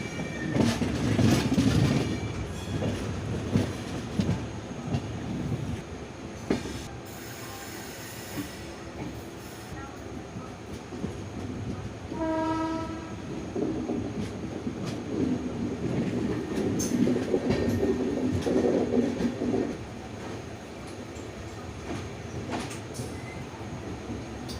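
The Venad Express rolls into Shoranur Junction, a loud close rumble of wheels and carriages with rhythmic clatter over rail joints, a brief high squeal of braking midway, and the heavy sound continuing as the train slows.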